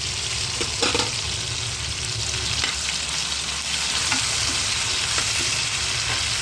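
Coriander sautéing in hot oil, with a loud, continuous close sizzle and intermittent stirring scrapes throughout.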